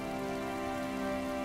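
Heavy, continuous rain pours down steadily on a village during a flood, a dense unbroken wash of sound that holds level throughout with no voices.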